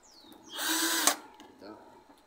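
A power drill briefly whirs at close range while driving a screw into an air conditioner, one short high-pitched burst of about half a second followed by a faint click and soft handling noises.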